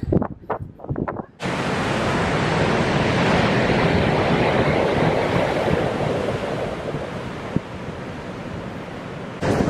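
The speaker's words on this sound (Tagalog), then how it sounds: "Baka hindi nyo ko marinig masyado kasi windy." Strong wind roars across the microphone by the sea at Uluwatu Temple in Bali, a loud continuous rush of gusting noise after a few brief knocks at the start.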